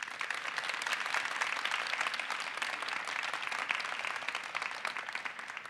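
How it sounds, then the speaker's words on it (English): Applause from graduating nursing students and guests at a pinning ceremony, an even, continuous patter of many hands clapping at moderate distance, sustained throughout without talk. "join me in a round of applause for our friends,"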